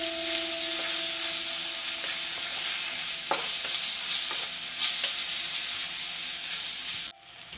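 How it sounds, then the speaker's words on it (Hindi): Tomatoes frying in a pan for a Kerala-style egg curry, a steady close sizzle with a series of scraping stir strokes, ending in a sharp clank near the end; no one speaks. "टमाटो भी अपना अच्छे से स्मैश हो चुका है, फ्राई हो चुका है"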